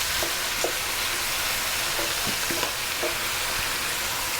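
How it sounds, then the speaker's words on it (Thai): Bean sprouts stir-fried with minced pork and fried tofu in a hot wok, giving a steady close sizzle with a few faint scraping stir strokes throughout. "ผัดแล้วขึ้นเลย"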